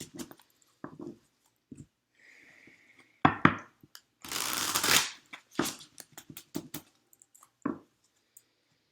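Tarot cards shuffled by hand in a quiet room, with a few brief papery riffling bursts, the longest and loudest near the middle, between scattered soft clicks and pauses.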